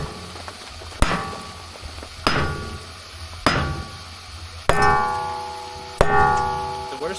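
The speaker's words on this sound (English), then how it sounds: "we're going to have to hit around it with a sledgehammer" Sledgehammer blows breaking up an old concrete pad, five heavy separate strikes spaced about a second apart, each a sharp crack with a ringing tail, close and loud with faint background noise.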